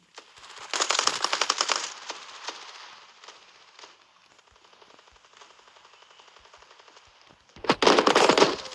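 Rapid automatic gunfire in a shooting video game comes in two loud bursts at the start and end, with quieter scattered shots and a steady rattling in between.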